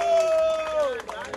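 Crowd at a Brazilian student rap battle roars and claps, with a shrill whistle sliding downward over the hubbub and voices shouting in the mix.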